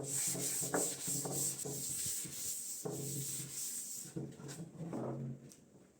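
A piece is hand-sanded with fine 320-grit sandpaper in rapid back-and-forth strokes, a close, steady rubbing hiss that trails off toward the end.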